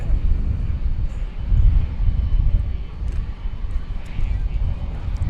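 An American Airlines airliner takes off from runway 18 left at DFW Airport, a steady, broad low rumble of jet engines lasting throughout with wind noise, while people talk over it.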